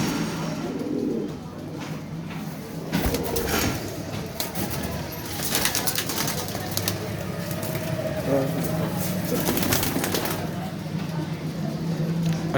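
Breeder pigeons kept for sale coo softly in their enclosure, low repeated calls under someone talking, with faint traffic in the background.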